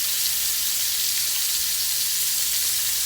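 Chicken pieces frying in a pan on a stovetop as they are flipped, a continuous loud crackling sizzle with bubbling oil, close and steady.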